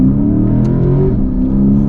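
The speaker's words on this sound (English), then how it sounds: "But we'll get our little acceleration here." A 2020 Lexus GS F with Brembo brakes and a V8 accelerates hard, its engine note loud and close as the revs climb steadily from the cabin.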